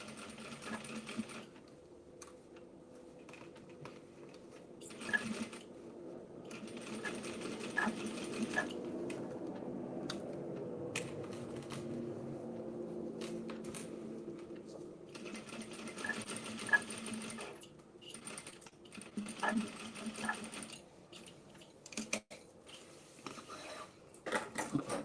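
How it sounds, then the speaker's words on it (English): A sewing machine top stitches around the flap of a small bag made from cow print pants, running in faint steady bursts of rapid mechanical whirring separated by brief pauses. "we're done top stitching around the flap"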